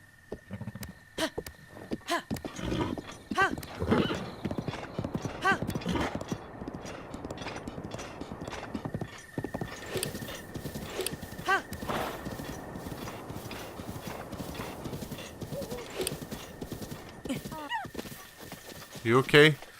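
Horse galloping with rhythmic hoofbeats in the video game Breath of the Wild, running throughout under frequent talking, with a brief whinny near the end.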